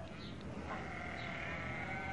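A single sheep bleats in a wavering, drawn-out cry lasting about two seconds, faint and somewhat distant against steady background hiss.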